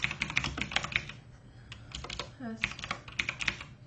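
Fingers tap out bursts of rapid, close clicks on a computer keyboard, with a short lull midway before the typing resumes.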